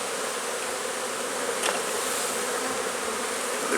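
Honey bees droning steadily in an open hive during a warm-weather spring inspection, a dense continuous buzz at close range with no voices.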